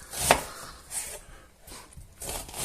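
A whole onion is chopped on a board at home, with one sharp knife strike standing out early and a few softer cuts following at uneven intervals, no talking.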